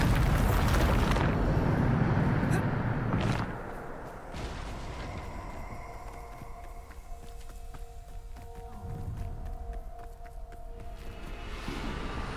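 A Bombarda spell explodes in Hogwarts Legacy with a heavy, booming blast that rumbles for several seconds. It settles into lower, echoing crackles and faint tonal hums, then swells again slightly near the end.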